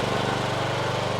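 A Hustler Sport 42 zero-turn mower engine running at a steady idle, a continuous low droning rumble close by, with no voices.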